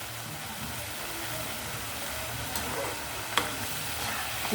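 Ridge gourd curry with chili powder frying and being stirred in a pan, giving a steady broadband sizzle with a couple of sharp utensil clicks near the end and no voices.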